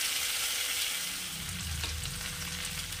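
Meat for niramish bhog mangsho slow-fries in a pan over a low flame, a continuous hiss of sizzling fat with a faint stirring scrape, heard close and alone.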